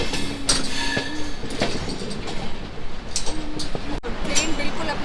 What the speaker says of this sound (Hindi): ट्रेन बिल्कुल अपने ऑन टाइम यहाँ से निकल चुकी है फाइनली